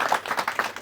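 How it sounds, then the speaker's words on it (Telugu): Audience applause for a couple, with a steady patter of many hands clapping at close range and no voices over it. "వాళ్ళ గట్టిగా చప్పట్లతో అభినందనలు తెలియజేద్దాం."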